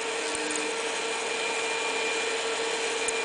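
A small double-shaft geared DC motor for robotics spins fast, producing a continuous high, steady whine with a faint mechanical buzz, close and constant with no speech.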